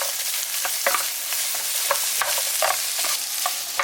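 Marinated lamb and onion stir-frying in a hot wok, a steady loud sizzle broken by repeated scraping strokes of the spatula at an uneven rhythm, close up with no voices.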